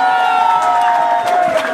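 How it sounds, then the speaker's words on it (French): A live audience cheers and whoops loudly in a brief, sustained burst of crowd noise. "applaudissez pour Maman Goro, s'il vous plaît."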